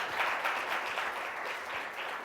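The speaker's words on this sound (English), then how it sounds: "let's give a round of applause for all of the presentations" Sustained applause from an audience at a youth forum event fills the whole stretch as a dense, even patter of many hands clapping, with no pauses and no voices on top.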